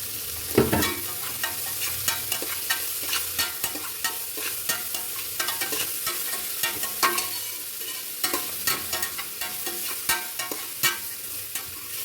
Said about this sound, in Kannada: ಇದನ್ನು ಚೆನ್ನಾಗಿ ಫ್ರೈ ಮಾಡಬೇಕು. ಮೆಂತ್ಯ ಸೊಪ್ಪು ಫ್ರೈ ಆಗಬೇಕಿದೆ ಕೂಡ.